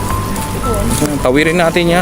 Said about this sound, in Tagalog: Lakas ang ulan mga ka-shekels.